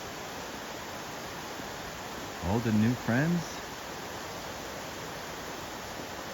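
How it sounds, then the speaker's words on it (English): Constant broadband rush of a waterfall near a Vermont ski trail on a rainy spring day, a steady noisy wash filling the whole clip with a brief spoken phrase over it midway. "Love the sound of some waterfall in piano"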